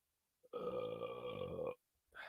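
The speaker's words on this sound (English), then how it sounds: "I don't know if you like ASMR burps" A single long, loud burp rumbles close to the mic for over a second, with faint sounds just before and after.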